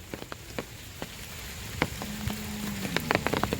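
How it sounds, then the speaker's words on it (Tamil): Light rain falls on a village cow farm, a steady close patter of drops hitting surfaces with scattered sharper taps, with no talk over it. "அப்போ தான் தண்ணி லைட்டாக மழை பெய்ய ஆரம்பிச்சு"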